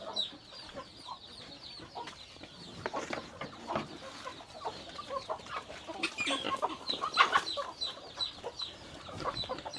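Several Saigon-breed chickens cluck and squawk close by, a busy, overlapping chatter of short calls with occasional louder cries.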